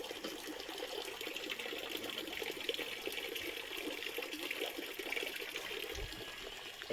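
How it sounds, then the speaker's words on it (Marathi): Cold water flowing at Raireshwar in the mountains, a steady soft trickling stream heard close but faint, running continuously with no voices. "पाणी येतं बघा कुठे दिसतंय."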